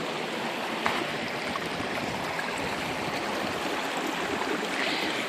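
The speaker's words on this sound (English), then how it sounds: "Here we have Horton Creek, approximately 100 yards from where it goes underground." Spring-fed Horton Creek in Arizona flows steadily, a continuous close rushing and trickling of water over rocks with no pauses, filling the whole stretch with even broadband noise.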